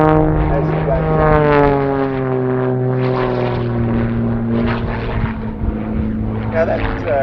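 A Rebel 300 aerobatic aircraft flying an airshow display, its propeller engine droning loudly with steadily shifting pitch as it climbs a vertical line, the tone sliding throughout, with a voice commentating over it.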